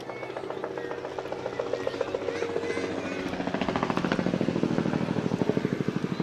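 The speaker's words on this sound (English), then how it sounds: "Air Evac is going to start off the parade here tonight with a flyby." An Air Evac medical helicopter flies over a small-town Christmas parade at night, its rotor chop building steadily into a loud, rhythmic thumping as it nears overhead.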